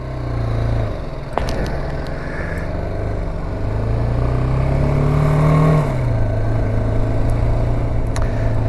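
Two-up motorcycle ride, rider and passenger aboard, pulling away in first gear: a steady engine drone that climbs in pitch as revs build, peaks near six seconds, then drops with the shift, with wind rush throughout.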